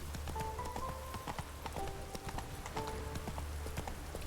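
Horse hooves clip-clop steadily at a trot in The Witcher 3, the regular beats close and clear over a low game ambience and music tones, with no talk.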